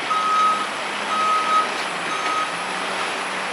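A hay-hauling truck reverses with its backup alarm sounding three evenly spaced, clear beeps over a steady engine and background hum.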